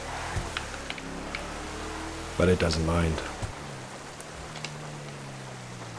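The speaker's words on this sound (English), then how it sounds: "It's raining." Rain falls in a driving video game as a steady soft hiss of drops, with low engine hum beneath and a brief burst of a voice talking partway through.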